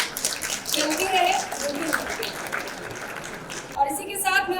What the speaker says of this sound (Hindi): मैं चाहती हूँ कि तालियों की गड़गड़ाहट चलती रहे।